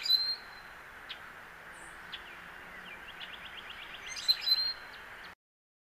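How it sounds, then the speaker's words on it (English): A rusty blackbird, a species at risk, sings with a creaky, rising squeak like a rusty gate hinge; thin high notes and a quick ascending series come through faintly over low background hiss. "So often that will be your first cue that there's a rusty blackbird around."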